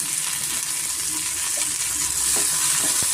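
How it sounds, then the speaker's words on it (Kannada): Tomatoes and masala spices fry in hot oil over a medium flame, giving a loud, continuous sizzle with occasional stirring scrapes. "ಚೆನ್ನಾಗಿ ಎಲ್ಲ ಮಸಾಲೆ ಐಟಮ್ಸು ಚೆನ್ನಾಗಿ ನಾವು ಫ್ರೈ ಮಾಡ್ಕೊಬೇಕಾಗುತ್ತೆ."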